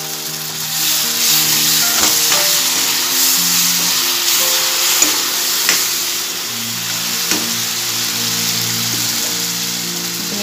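A tomato and onion paste fries in oil for a fish curry, sizzling loudly and continuously close by, with occasional stirring scrapes and clicks of a utensil against the pan.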